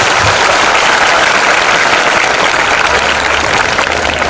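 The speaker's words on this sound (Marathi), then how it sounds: "साहेबांचं आपण सगळेजण टाळ्या वाजवून स्वागत करूया." An audience claps in welcome for a speaker at a talk, producing a dense, loud, continuous roar of applause that fills the entire moment without pause.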